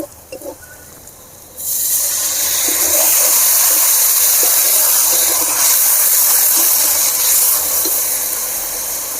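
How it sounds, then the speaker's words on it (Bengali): A splash of water hits a hot pan of chicken curry after a brief quiet moment, bursting into a loud, sustained hiss of steam that stays steady and rushing to the end. "সামান্য জল দেব।"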